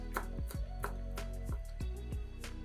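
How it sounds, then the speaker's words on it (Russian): A knife finely chops fresh parsley and dill steadily on a cutting board, with sharp, evenly spaced thuds over quiet background music. "Мелко нарезаем зелень."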